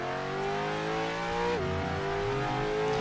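A V8 supercar exhaust revving in a Roblox driving game, with a steady engine drone whose pitch dips sharply mid-clip as the throttle lifts and then climbs again, loud and close with no talk over it.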